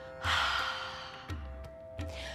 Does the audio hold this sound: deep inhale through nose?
yes